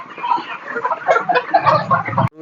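Chickens cluck and murmur continuously at a village poultry farm with a nipple drinker system, a dense flock chatter close by with overlapping calls, ending abruptly.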